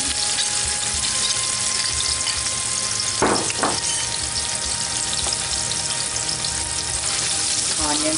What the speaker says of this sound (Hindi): हमारा तेल गर्म है, मैं ऑनियन डाल दूँगा